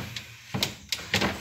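Refrigerator drawer sliding open and shut, with two or three short, close scraping and clunking bursts separated by brief quiet gaps.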